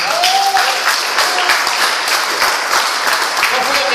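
A church congregation applauding, dense steady clapping from many hands filling the room at even loudness throughout, with voices faintly mixed in underneath.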